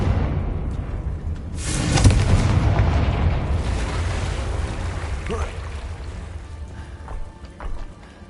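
A Confringo fire spell explodes in Hogwarts Legacy, a loud booming burst about two seconds in that rolls into a long, fading rumble, with smaller thumps trailing near the end.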